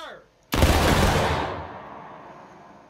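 A line of muskets fires a single massed volley in the Civil War game War of Rights, a loud near crack swelling into a rolling roar that fades over about two seconds.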